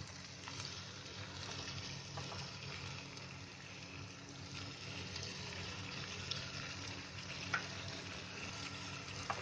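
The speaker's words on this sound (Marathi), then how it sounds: "त्याच्यावर आहे ना टोमॅटोची पेस्ट बनवली आहे, ती आता त्याच्यावर सोडते." Tomato paste poured into a pan of sizzling chicken in a kadai for an Indian tomato chicken dish, a steady soft frying hiss with faint stirring and clinks, close and quiet, no talking.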